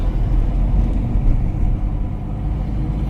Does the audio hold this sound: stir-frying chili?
no